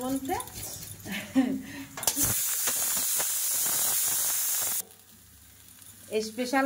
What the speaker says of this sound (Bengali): তো খিচুড়ির জন্য চাল এই যে ভিজিয়ে রেখেছিলাম, তো এখন ভাজতে বসিয়ে দিয়েছি।